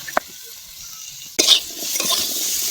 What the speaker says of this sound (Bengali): আলুটা পুরো আলু ভাজার মতো করে ভেজে নিতে হবে।